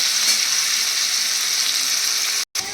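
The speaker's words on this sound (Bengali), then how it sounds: "আলুটাকে ভালো করে নাড়াচাড়া করে একটু লাল লাল করে ভেজে তুলে নেব" Continuous crackling sizzle of potatoes frying in hot oil, steady and close, with a brief dropout near the end.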